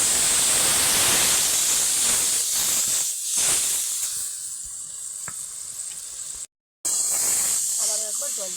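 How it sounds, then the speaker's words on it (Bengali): Tamarind water hits river king crabs frying in a wok, setting off a loud, steady hissing sizzle that eases slightly and breaks off for a moment before surging back. "কড়াইতে কাঁকড়াগুলো ভাজতে ভাজতে তার উপর দিয়েই তেঁতুল জল দিয়ে দিতে হবে।"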